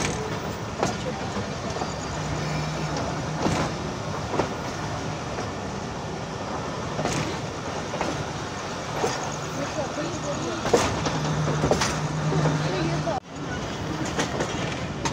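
Millat Express passenger train running on rails, heard from inside the carriage: a steady rumble with repeated clickety-clack wheel beats over rail joints and occasional sharp knocks, loud and continuous throughout.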